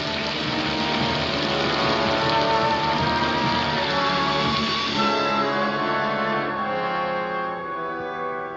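A heavy rainstorm pours down in a steady, dense roar of rain on surfaces, loud and close, continuing unbroken for several seconds before easing slightly at the end, with no voices.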